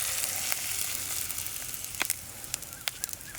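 Boiled eggs roasting in oil in a pan, a steady close sizzle with sharp pops and crackles growing more frequent toward the end, no voices.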